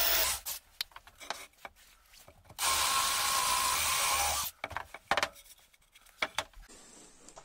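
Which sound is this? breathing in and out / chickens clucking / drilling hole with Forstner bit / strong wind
drilling hole with Forstner bit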